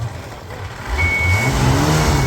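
A jet ski engine running in reverse gear on dirt: a loud, close, steady motor drone that swells and rises slightly in pitch, with a thin high whine over it.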